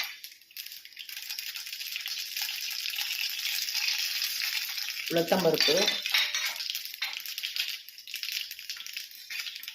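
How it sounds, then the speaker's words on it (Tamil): Mustard seeds added to hot oil in a kadai, a bright steady frying hiss with a burst of popping and clinking in the middle before the sizzle settles again. "நம்ம வந்து கடாய் வச்சு அதில் எண்ணெய் ஊற்றிருக்கோம் எண்ணெய் காய்ச்ச உடனே கடுகு போட போகிறோம்"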